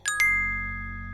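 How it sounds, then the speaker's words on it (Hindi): A message notification chimes twice in quick succession, bright ringing tones that sustain and slowly fade over a low, steady background drone. "फिर कुछ देर बाद मैंने मैसेज की नोटिफिकेशन साउंड सुनी।"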